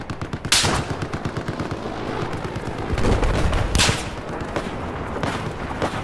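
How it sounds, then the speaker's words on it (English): Enemy gunfire in Battlefield 4, rapid machine-gun bursts with dense rattling shots and a couple of sharper, louder cracks, continuous and fairly close throughout. "they're actually shooting at me"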